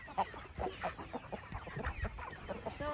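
Many Rhode Island Red and Rhode Island White chickens in a range area cluck and chatter together at moderate distance, a busy overlapping flock sound with no speech.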